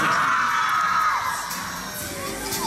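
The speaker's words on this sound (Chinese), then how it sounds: "尖叫声" A large crowd of fans at a Li Yuchun fan event in Changsha screams and cheers, a loud sustained wash of high-pitched shrieks from many voices.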